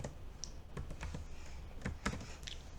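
Computer keyboard keys tapped in short irregular bursts, quiet clicks spaced unevenly over a low steady room hum.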